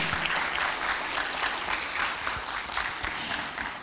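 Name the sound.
audience applause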